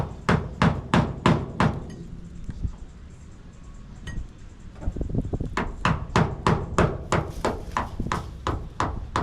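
A tool is struck hard with a hammer to break up body filler on a 1992 Ford Mustang Foxbody. Sharp metallic blows come in fast bursts, then a short pause, then another quick series, loud and close.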